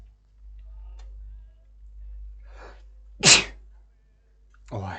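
A single sharp human sneeze bursts out near the middle, close and loud, in an otherwise quiet dark room with faint low hum and brief rustles around it.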